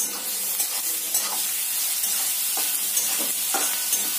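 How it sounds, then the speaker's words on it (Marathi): Chopped onion and hot green chili fry in oil in a pan for kande pohe, giving a steady close sizzle and hiss with a few soft stirring scrapes throughout. "कांद्याला पण असं छान तेलामध्ये भाजून घेऊया"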